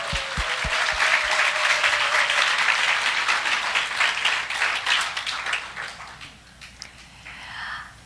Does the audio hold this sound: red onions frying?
no